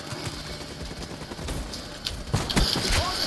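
Video game gunfire from a shotgun fight: a dense, noisy backdrop with several sharp, loud blasts clustered near the end, bursting close and overlapping.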